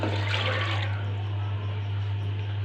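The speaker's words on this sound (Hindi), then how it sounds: "1 गिलास के करीब पानी डालेंगे।" About a glass of water pours steadily into a pot of soaked chana dal, a continuous close splashing rush over a low constant hum.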